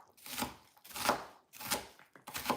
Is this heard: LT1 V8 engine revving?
no